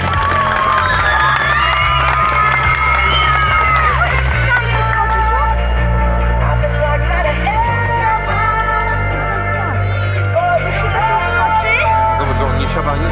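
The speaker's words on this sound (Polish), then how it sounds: "Głośne oklaski." Outdoor crowd at a family picnic bike stunt show cheering and shouting loudly throughout, with children's voices in the mix and a steady dense roar.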